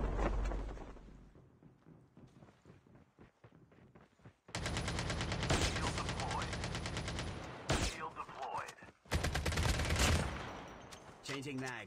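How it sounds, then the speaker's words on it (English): Video game gunfire on the Customs map, with dense, rapid bursts of shots cracking loudly in two long volleys after a quieter opening, and some talk in between. "Oh, I'm getting sniped at."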